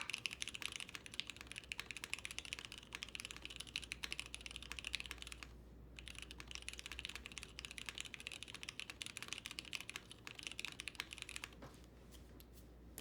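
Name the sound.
typing on a newly built keyboard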